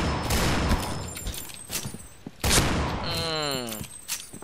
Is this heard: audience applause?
no